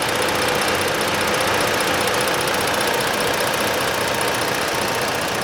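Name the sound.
2018 Ford Explorer Police Interceptor engine idling smoothly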